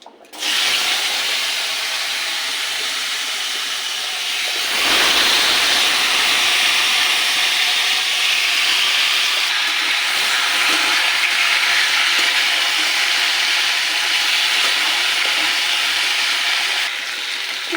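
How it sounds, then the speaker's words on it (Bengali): Cumin seeds and cut potatoes with stalks hitting hot oil left from frying fish, a loud steady sizzling hiss that surges and stays dense and continuous, close by. "এবার এই তেলে দেবো জিরে, দিয়ে দেবো জিরে ফোড়ন। তো ডাঁটা আলু কেটে রেখেছি, এগুলো দিয়ে দেবো।"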